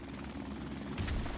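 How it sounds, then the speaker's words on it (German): A helicopter in the Call of Duty Modern Warfare remastered shooter, giving a loud, continuous rotor and engine roar with a rhythmic pulse that swells briefly near the end, with no talking over it. "Oh, Alter, der Heli."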